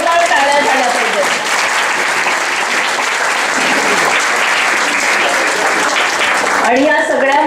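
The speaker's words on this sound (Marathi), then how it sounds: "त्यांना सगळ्यांना एक जोरदार टाळ्या झाल्या पाहिजेत" A large audience at a children's performance claps steadily and loudly for several seconds, a dense, continuous wash of applause with crowd voices mixed in.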